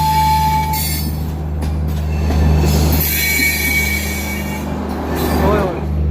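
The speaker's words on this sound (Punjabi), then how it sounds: "ਟ੍ਰੇਨ ਇੱਕ ਆ ਰਹੀ ਹੈ ਜੀ ਆਮਰਪਾਲੀ ਕਟਿਆਰ ਅੰਮ੍ਰਿਤਸਰ" The Amrapali Express, a long-distance train to Amritsar, pulls into Ludhiana Junction with a steady loud rumble of wagons and wheel squeal rising above it, a brief horn-like tone early on.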